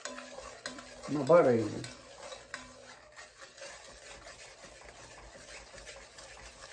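Sugar is stirred in a pot while it dissolves for pecan candy, making a soft, grainy scraping that keeps going, with a brief spoken remark near the start.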